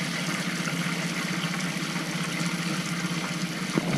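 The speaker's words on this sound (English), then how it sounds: "That's the hot and cold water running through." Hot and cold water runs steadily through motorhome taps during water-system sanitisation, a continuous close hiss and trickle with no voices.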